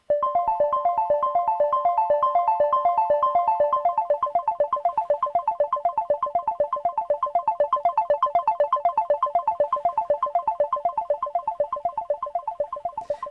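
A bright Korg Minilogue synthesizer plays a fast repeating sequence of plucky notes, the tone shifting and sweeping over time as the filter cutoff is modulated, alone without any talking.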